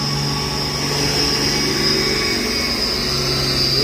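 A luxury truck's engine revs steadily while climbing a steep hill, a continuous mid-pitched drone with a droning hum underneath, loud and close throughout with no break.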